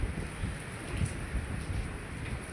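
Steady rain falls outdoors during a downpour with strong wind, a dense, even wash of drops and low rumbling gusts, fairly loud and continuous with no voices.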